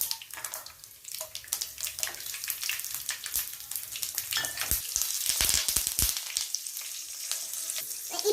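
Mustard seeds, urad dal and garlic frying in hot oil for an egg thokku, crackling and spluttering with dense popping bursts and a bright, uneven sizzle throughout.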